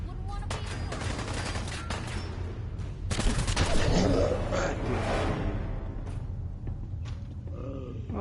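Gunfire in the Fallout 4 video game, with dense bursts of shots and mechanical clatter over a constant rumbling game backdrop and loud throughout, with a low voice underneath at times.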